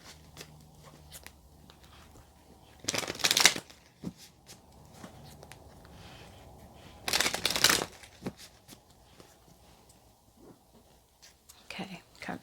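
Tarot cards shuffled in two brisk bursts a few seconds apart, close and crisp, with soft speech and light handling noises in the quiet between.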